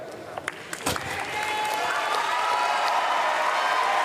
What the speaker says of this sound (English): Muted, anxious applause